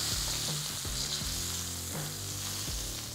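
Steak sizzles steadily in a hot pan while being basted with a spoon, garlic frying alongside, the frying hiss continuous and loud with tonal background music underneath.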